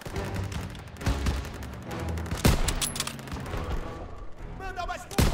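Rapid bursts of video game gunfire crackle repeatedly in Call of Duty WW2, with sharp bangs and booms, fairly loud, over a busy background of shooting.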